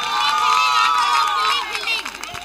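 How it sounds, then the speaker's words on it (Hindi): Supporters of the fielding team clap and cheer as a crowd at a women's final match, a dense, loud wash of voices and applause that thins toward the end. "फील्डिंग टीम के सपोर्टर तालियां बजाएं।"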